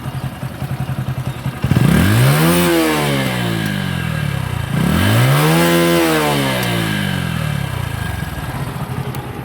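Motorcycle engine in neutral revved hard twice toward top RPM, each rev climbing steeply in pitch then falling back to a rough idle, loud and close with no talk.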